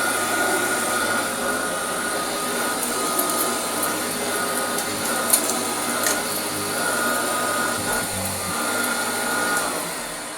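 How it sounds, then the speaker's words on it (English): A restored, varnished Hoover Junior 119 upright vacuum cleaner runs on a rug, a loud, steady motor drone with a high whine and faint rattles, continuous and close, with no voices. "so we have to use an upright Hoover"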